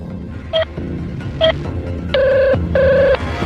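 A telephone rings as Naman calls Dhruv, two short electronic tones followed by two longer ringing bursts, clear and close over a low background hum.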